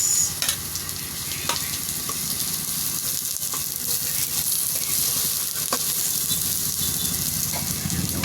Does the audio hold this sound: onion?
yes